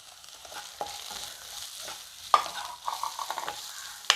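Onion frying in a pan with garlic and green chilli for spiced buttermilk sizzles softly throughout, broken by a few sharp scrapes and clinks from stirring.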